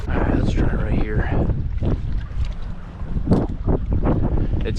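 Steady wind blowing across a small fishing boat near old pilings, a constant rough rushing buffet against the microphone, with someone talking over it.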